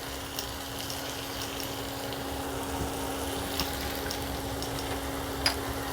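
Chopped tomatoes frying with onion, ginger, garlic and chilli in a pan, a steady even sizzle and bubbling with a faint constant hum and a few small clicks, no talking.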